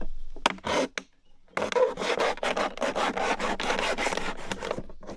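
Cutting around a piece of wood out in the taiga, a steady rasping scrape in quick repeated strokes, close and fairly loud after a brief pause near the start.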